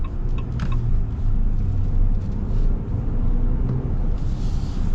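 Engine of a 2026 Ram 1500 Laramie pickup truck, a low, mellow rumble at a steady idle or gentle cruise, fairly loud and continuous with no talk.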